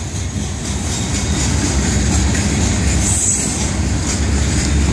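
An FEC freight train, number 101, rolls past at Micco with a steady, loud, close roar of heavy wheels and cars, and a brief high squeal near the middle.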